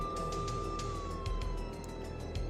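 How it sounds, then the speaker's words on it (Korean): A wailing police car siren in a video game sweeps steadily over a low engine rumble, close and continuous, with faint rhythmic clicks in the background. "경찰 사이렌 소리가 들려"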